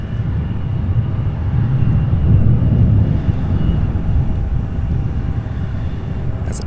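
A jet aircraft, likely a heavy UPS freighter, on runway 29 at Louisville SDF airport produces a steady, loud low rumble that swells and holds throughout, with wind buffeting and no speech.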